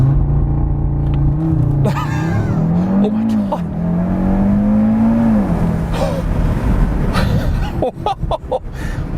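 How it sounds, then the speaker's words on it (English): A 2018 Audi RS3 launches hard using launch control, its engine note climbing loudly and steadily through the revs with a deep rumble close by. A person exclaims partway through. "All right, so I'm going to try launch control now."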